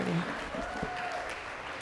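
Applause from an audience at a school sports banquet, a brief burst of clapping that runs steadily for under two seconds with some murmured voices mixed in.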